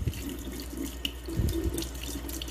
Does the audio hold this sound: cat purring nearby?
no